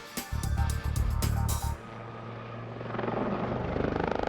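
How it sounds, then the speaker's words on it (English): A Lynx helicopter flies a loop, heavy rotor thumping loud at first, then cutting to a fainter, steadier engine whine with rhythmic blade chop building again toward the end. "turning a helicopter upside down"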